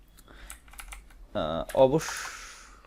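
Keys clatter on a computer keyboard in short bursts, close and crisp, with a brief voice speaking between the typing.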